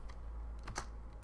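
A name is typed on a computer keyboard, with a short run of faint, close key clicks over a low background hum.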